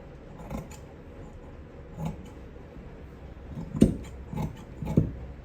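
Scissors cut kameez fabric in a few faint, separate snips spread over several seconds against a quiet background.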